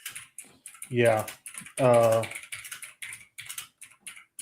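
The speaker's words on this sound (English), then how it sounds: "it's a mechanical keyboard" Rapid clicking of a mechanical computer keyboard being typed on, near and steady, with a person speaking briefly over the keystrokes.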